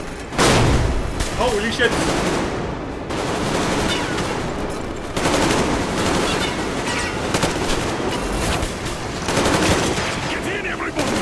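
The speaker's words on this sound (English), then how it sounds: "I don't even see where they're shooting from" Rapid bursts of gunfire and booming shots ring out continuously during a firefight in the video game Metro Exodus Enhanced Edition, loud and dense, with a startled voice exclaiming over the din.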